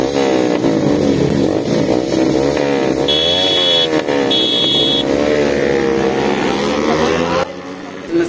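Motorcycles in a drag race between a Yamaha MT-15 and an R15 V3, engines revving hard and rising in pitch, loud and close with a steady rolling roar and brief tonal beeps.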